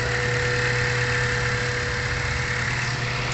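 A car engine runs at a steady idle after its ignition coils were replaced, with a constant low rumble and hum and slight knocking vibration, close and loud throughout with no talk.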